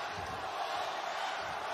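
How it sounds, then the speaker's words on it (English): A boxing arena crowd chanting near the end of round eight, a dense, steady roar of many voices filling the space at moderate loudness. "Crowd starting to chant here as we come to the end of eight"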